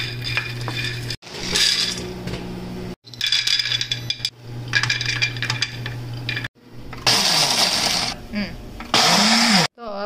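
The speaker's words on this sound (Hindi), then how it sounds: "अभी जो आपने देखा ना मिक्सी में मैंने बनाया" An electric mixer grinder blends roasted dry fruits into powder in a home kitchen, running in four loud, close whirring bursts with brief silent pauses between them.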